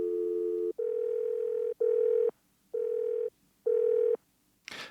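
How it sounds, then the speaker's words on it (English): Telephone line tones, sampled as Foley sounds: five evenly spaced beeping bursts of a steady tone with short silent gaps between them, ending in a brief click, clear and alone. "and there's also a selection of line tones"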